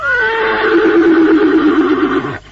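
A horse whinnies loudly and close, one long descending neigh lasting a couple of seconds before cutting off, in a period drama setting with soldiers.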